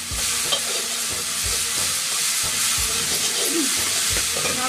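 Spices sizzle and crackle steadily in a hot pan, close up, with occasional soft knocks of stirring, while cooking a pumpkin leaf vegetable dish.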